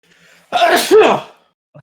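A single loud sneeze up close, a sharp burst with a quick second gasp, followed by quiet and a faint click.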